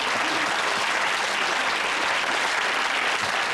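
Dense, even applause from a television panel-show studio audience, loud and continuous for a few seconds with no speech over it.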